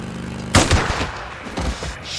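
A sniper shot rings out during an ambush in the video game Days Gone: one sharp, loud, close crack with a ringing tail, then a second weaker report about a second later.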